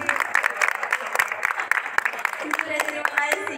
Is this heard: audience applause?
yes